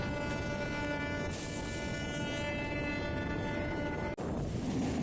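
A train rolling toward Santragachi railway station, a steady loud rumble with sustained tonal whine from the wheels and carriages, heard from inside or close by.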